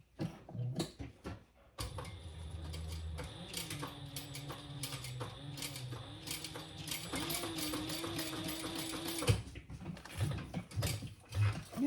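Sewing machine top stitching a fabric crossbody bag: a steady, close mechanical whir with rapid needle chatter running for about seven seconds, starting and stopping with a few handling clicks around it.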